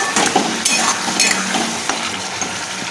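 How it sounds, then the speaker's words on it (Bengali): Fried potatoes sautéed in a pan with chili powder and turmeric, continuous close sizzling with spatula scrapes and stirring clinks, no talk. "এর মধ্যে আমি ভেজে রাখা আলুটা দিয়ে দিলাম, দিয়ে এটাকে ভালো করে কষিয়ে নিচ্ছি"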